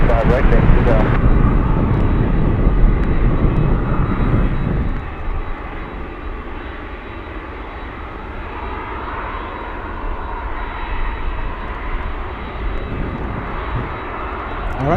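A Condor airliner spools up its jet engines on an airport apron, a loud rumbling roar that eases after a few seconds into a steady whine and drone, with radio chatter and a voice talking over it.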